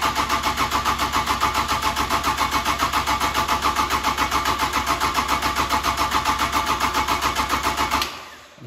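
A Kubota diesel engine with its stop lever pulled back cranks over steadily on the starter for about eight seconds, a loud, even rhythmic churning that cuts off abruptly near the end.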